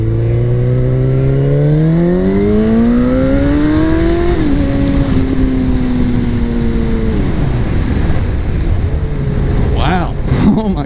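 A brand-new Kawasaki motorcycle accelerating hard, its engine note climbing loudly before a gear change, then pulling again and easing off. Heavy wind rush roars throughout, recorded from the rider's position.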